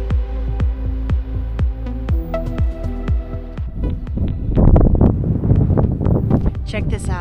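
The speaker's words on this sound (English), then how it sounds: "It's a little windy" Wind gusts buffet the microphone on an Irish seaside resort beach, a constant low rumble running throughout, with thumping beats in the first half and voices talking over the later part.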